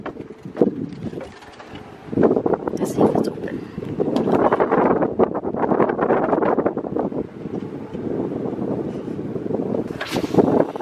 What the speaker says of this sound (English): It's super windy, so I don't know how this is gonna be.